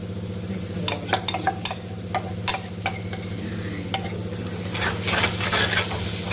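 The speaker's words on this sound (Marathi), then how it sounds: "आता आपण हे जे फेटलेलं दही आणि बेसनात आणि मसाले होते हे यात टाकून घ्यायचे." Whisked curd, besan and spices go into chillies frying in oil for a spicy Vidarbha-style dahi pitla. A spoon clatters and scrapes against the pan in irregular strokes over a constant sizzle, and the frying swells louder near the end.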